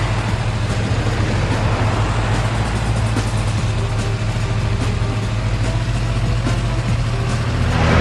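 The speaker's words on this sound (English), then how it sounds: "This taxi's gravity coils appear to be operational. Perhaps shifting position will steer the vehicle." Steady, loud hum of a hovering taxi with operational gravity coils gliding along in Ratchet & Clank, a dense continuous drone like passing traffic with no pauses and no speech.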